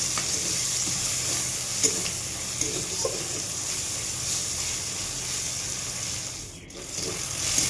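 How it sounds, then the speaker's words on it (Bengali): Steady sizzling of pumpkin flowers frying in a pan, with occasional stirring scrapes and a brief louder hiss near the end. "এবার এটাকে ভালো করে ভেজে নেব"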